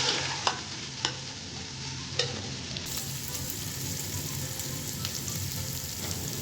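Chopped onions sizzle in hot oil in a pot for vegetable pulao, a steady frying hiss with a few sharp clinks and scrapes of a spoon stirring, close and alone.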